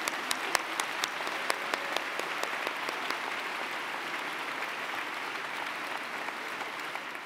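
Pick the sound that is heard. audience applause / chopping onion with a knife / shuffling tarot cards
audience applause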